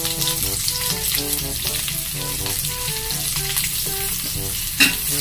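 Onion added to a pan where garlic has already browned, frying with a bright steady sizzle and stirring, close and continuous, with a brief clatter near the end.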